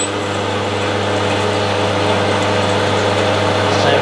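Lathe boring into an alternator shaft for a micro hydro turbine, a loud, constant motor hum with steady cutting noise, close and unchanging throughout.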